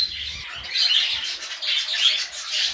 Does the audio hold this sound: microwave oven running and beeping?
no